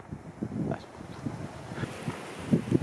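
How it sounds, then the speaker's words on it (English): Strong wind gusting across the Greek island of Skiathos, a steady rough buffeting roar with uneven gusts rising and falling over the microphone, no voices. "So sometimes you can see really strong winds in this area"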